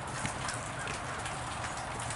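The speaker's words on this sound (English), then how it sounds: "See all the rain?" Rain falling in a backyard makes a steady, even hiss of drops, moderately quiet, with no talk.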